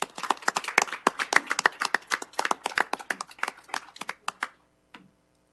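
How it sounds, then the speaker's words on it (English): A small audience at a city council meeting claps in a sharp, scattered patter of individual hand claps that thins out and stops after a few seconds. "Let's give a round of applause."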